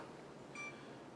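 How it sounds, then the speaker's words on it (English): A single short electronic beep comes from a kitchen timer as it is being set, faint and brief against quiet room tone. "Set the timer"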